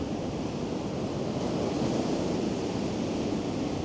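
Rough sea surf surges steadily against a beach boat ramp used for launching lifeboats in Blackpool, a loud continuous roar mixed with wind buffeting the microphone and no voices.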